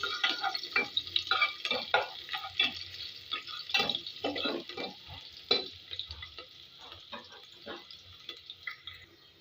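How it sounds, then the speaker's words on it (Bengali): Onions fry in a pan for a chicken and potato curry, with a close crackling sizzle and busy scraping stirs that grow sparser and fainter toward the end, no speech. "এবার আমি পেঁয়াজ দিয়ে দিচ্ছি। এবার এগুলো একটু ভেজে নিব"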